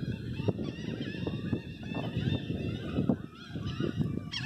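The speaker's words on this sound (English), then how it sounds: "Hear the gulls laughing." Gulls call repeatedly over a noisy outdoor background in Florida, harsh honking cries overlapping one another throughout.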